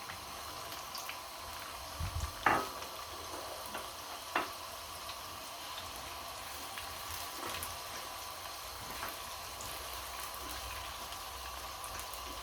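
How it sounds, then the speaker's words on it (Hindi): Onions fry in ghee in a frying pan, a soft steady sizzle with a couple of brief clinks and stirring touches early on. The sound is quiet and close, with no talking. "मैंने फ्राई पैन में घी डाल लिया तो इसको हम पहले में फ्राई करेंगे प्याज"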